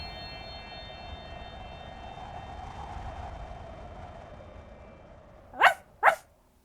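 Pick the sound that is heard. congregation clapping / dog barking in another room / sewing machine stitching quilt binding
dog barking in another room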